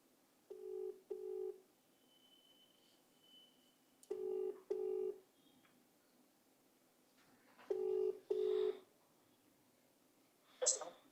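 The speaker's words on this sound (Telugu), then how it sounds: "చక్రధర్ గౌడ్కి ఫోన్ చేద్దాం ఒకసారి." A telephone call is placed: short dialing tones, then ringback tones sounding in paired bursts, repeated three times, with a faint blip at the end.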